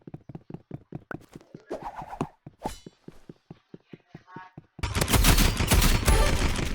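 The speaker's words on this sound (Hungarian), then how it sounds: "Lövöldöz!" Gunfire in the Rivals video game: a rapid run of evenly spaced sharp revolver-like shots, then a sudden loud burst of dense continuous firing and noise in the last couple of seconds.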